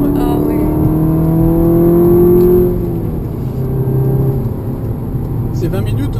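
A 280-horsepower Seat Leon Cupra drives on the Bugatti circuit in Rennes, heard from inside as a loud, steady engine drone whose pitch drops partway through.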